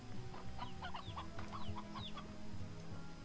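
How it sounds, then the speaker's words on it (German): A rooster in the video game Slime Rancher clucks in a quick run of short calls over a steady low background hum, close and moderate in level, with no talk. "Oh, ein Hahn."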